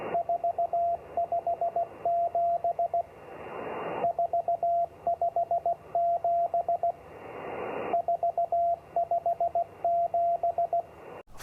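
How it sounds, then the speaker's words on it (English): A shortwave numbers station sends Morse code numbers, a steady high beeping tone keyed in rhythmic groups of dots and dashes, with pauses of hissing static between bursts. "Morse code."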